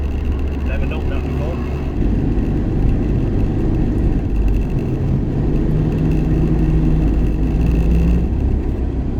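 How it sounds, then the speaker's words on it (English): A car drives in Sunday morning traffic, its engine and road noise forming a loud, steady rumble that fills the whole stretch without a break. "Typical Sunday morning traffic."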